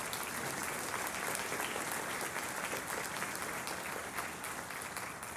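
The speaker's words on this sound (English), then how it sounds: "Let's give them a round of applause one more time." Audience applause at a Great Falls Municipal Band concert: dense, steady clapping from a sizeable crowd that holds at an even level for the whole stretch without letting up.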